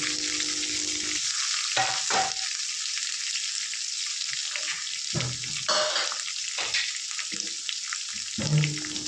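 Finely chopped onions go into hot oil for a potato chutney. A bright hiss is broken by several short, uneven bursts of sizzling and spatula stirring, with brief near-silent gaps between them.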